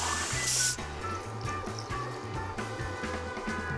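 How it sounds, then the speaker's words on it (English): Canned tomato liquid and water pour and glug into a pot, with a brief louder splash at the start followed by a steady, fairly close stream. "Pouring that in, and then I'm gonna fill this can with water once at least, maybe twice."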